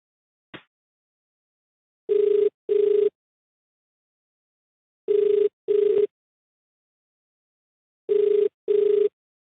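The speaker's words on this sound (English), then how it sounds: "Oh, here they got a phone number. I'm just gonna call them." Outgoing telephone call ringing back on the line: a short click, then three clear pairs of ring tones spaced evenly with silence between, loud and clean.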